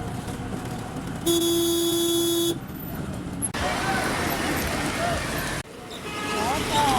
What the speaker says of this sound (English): now I'm riding an auto rickshaw towards the city center